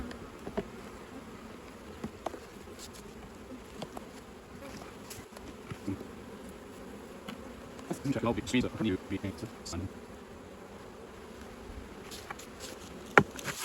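Honey bees buzz around a freshly split beehive fitted with a queen cell protector, a faint steady outdoor drone with scattered brief louder passes of individual bees and no talking.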